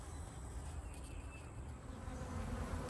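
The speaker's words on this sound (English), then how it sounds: "there's a lot of bees on the outside of the bucket" A swarm of honeybees hums steadily inside and around a 10-gallon two-bucket swarm trap, with a dense, continuous buzz at moderate distance and no talking.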